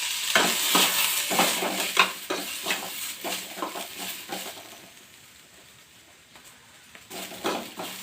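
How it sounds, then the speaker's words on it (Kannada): Cluster beans (chowlikai) fry in oil in a pan, with a constant sizzle broken by repeated spatula scrapes and clinks against the pan. The stirring fades for a moment and then picks up again. "ಎಣ್ಣೆ ಹಾಕಿ ಸ್ವಲ್ಪ ಹುರಿತೇನೆ"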